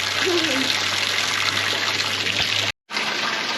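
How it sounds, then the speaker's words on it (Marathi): Steady rushing of spring water falling from a stone gomukh spout into a built tank at an ancient single-rock temple, continuous and close, cutting out briefly near the end. "पूर्ण झऱ्याचं पाणी त्या गोमुखातून तिथे एक टाकी बांधून त्याच्यामध्ये येतं"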